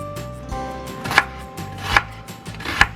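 A knife chops through an onion on a cutting board, three sharp, loud thuds spaced roughly a second apart over a faint background hum, with no talking.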